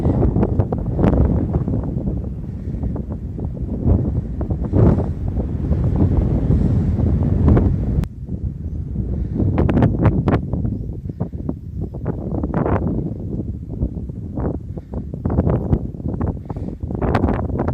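Strong wind gusts over coastal rocks and buffets the microphone in loud rumbling bursts, sustained and irregular, with occasional sharper thumps.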